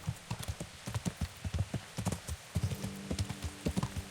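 Horse hooves clip-clop steadily at a riding pace in the video game Kingdom Come: Deliverance, a close, rhythmic series of hoofbeats with no talk over them.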